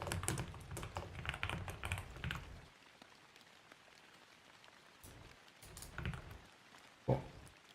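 Keys clacking on a computer keyboard in bursts of rapid typing, close and fairly quiet, with pauses between flurries and one sharper keystroke near the end; no voices.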